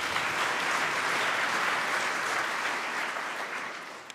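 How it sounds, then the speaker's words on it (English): Steady audience applause at a conference lightning-talk session, a dense sustained clapping that stays loud for a few seconds before tapering off toward the end. "Quick round of applause, please."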